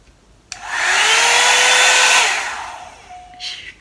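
A Revlon hot air brush switches on with a click and blows a loud, steady whooshing roar while brushing hair, then winds down and stops, followed by a short rustle.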